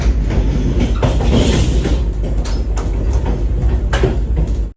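A local train arriving at Kalyan Junction railway station rumbles loudly and continuously up close, with heavy low-pitched noise and occasional metallic clanks and rattles.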